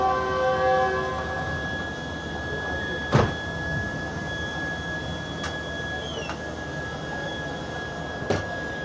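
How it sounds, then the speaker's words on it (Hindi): Karakoram Express train pulling out of Rohri Junction station: a long whistle or horn tone rings steadily at first, with station noise, sharp metallic clanks and squeals at intervals over a low rumble. "अब कराक्रम एक्सप्रेस अपना 20 मिनट का स्टॉप करने के बाद रवाना हो रही है रोड़ी जंक्शन रेलवे स्टेशन से।"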